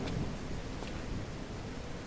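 Steady rain hisses in a video game scene, with soft rumbles of thunder rolling underneath; the downpour stays even and fairly quiet throughout, with no talking.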